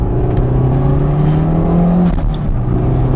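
Toyota MR2 Turbo fitted with a BMW S54 engine pulls hard in second gear, a loud steady engine drone rising gradually in pitch for about two seconds before easing off, heard from inside the car with no talking.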